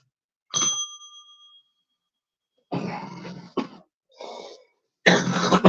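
Someone coughs several times in short, sharp bursts spread across a few seconds. A brief ringing tone comes first, and the coughs are close to the mic and loud, with silence between them.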